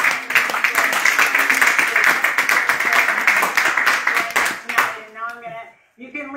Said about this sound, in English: I think we can all join in applause and gratitude.